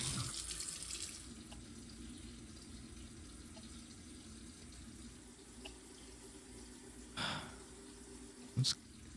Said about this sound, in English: just wash our hands